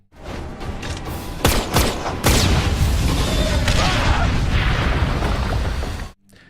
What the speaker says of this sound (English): the bullet hits the bomb instead, detonating it